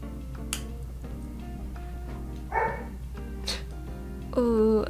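A dog barks from another room in a few short, muffled yips and barks set against a steady background hum, with a higher whining sound near the end.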